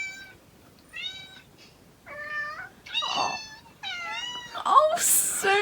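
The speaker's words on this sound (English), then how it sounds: "Alfie's playing cat noises and it's making Sonia meow." A series of cat meows played back as recorded noises, six or seven short calls with pauses between, some whiny and one ending in a sharp caterwaul, close and fairly clear over quiet room noise.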